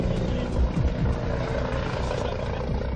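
A gendarmerie police helicopter fitted with a camera flies over the A63 motorway near Bordeaux, its rotor and engine droning steadily and loudly while a voice talks over it.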